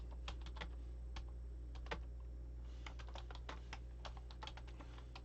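Fast, uneven typing on a computer keyboard, close and clear, with crisp key clicks over a steady low hum and no talking.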